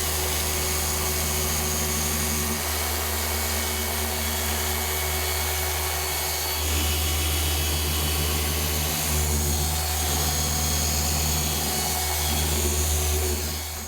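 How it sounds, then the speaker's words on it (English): A car polisher spins a wool pad wetted with rinseless wash while prepping paint for a ceramic coating, giving a steady close motor whine and hum that shifts pitch partway through as the load changes. "We'll start with the wool pad, a couple shots of rinseless wash. Get the pad spinning."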